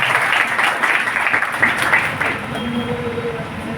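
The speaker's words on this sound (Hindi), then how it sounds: "एक बार जोरदार ताली तो बनता ही।" Students and teachers applaud at a school event with an MLA's speech, a dense, steady wash of clapping lasting several seconds with some voices mixed in, fading slightly toward the end.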